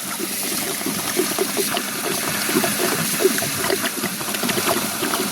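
Dissolved urea fertilizer being drawn into a drip irrigation line in a sugarcane field: a steady, bubbly gurgling trickle with small pops, continuous and moderately loud throughout.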